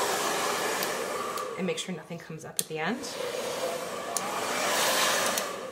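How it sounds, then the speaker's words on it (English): A handheld hairdryer blows a steady, close whooshing roar while warming vinyl lettering on a DIY front door mat; the hum holds throughout under a person speaking briefly in the middle. "And I also just take my hairdryer like this"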